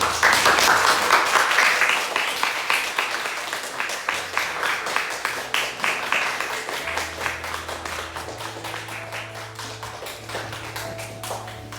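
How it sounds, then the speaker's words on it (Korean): A church congregation at a Sunday service for elder and deaconess appointments gives warm applause, strong at first and gradually thinning out, with organ-like sustained tones emerging underneath as the clapping fades. "뜨거운 박수로"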